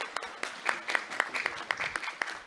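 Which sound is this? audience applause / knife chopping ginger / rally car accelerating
audience applause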